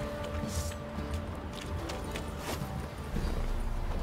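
Hoof clip-clop from a horse in The Witcher 3: Wild Hunt, steady rhythmic clopping mixed with ambient music and background noise, fairly loud throughout.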